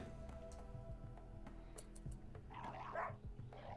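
Dogs in a video game bark in short bursts over a steady, busy game soundscape, with a louder scuffle near the end.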